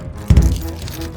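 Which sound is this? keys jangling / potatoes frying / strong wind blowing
keys jangling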